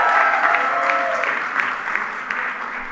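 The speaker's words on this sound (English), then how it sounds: "Everybody, please give Diana a big round of applause for sharing your inspiring story." Audience clapping at a White House student recognition event, a round of applause that fades gradually, with a voice faintly present beneath it.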